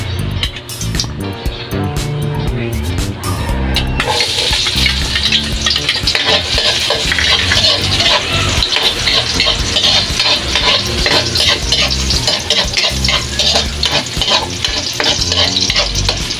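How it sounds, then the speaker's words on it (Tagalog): Garlic sautéing in a little oil in a hot pan, a loud, steady sizzle that runs the whole time, with the clatter of stirring and a rhythmic background beat. "Konting mantika lang. Gisa na tayo ang ating bawang."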